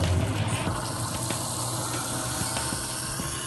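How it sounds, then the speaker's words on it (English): Hot water runs steadily into a garbage disposer drain, a continuous close gushing and splashing with faint clinks, no voices. "run a little hot water, and that will actually stop the freeze of the water"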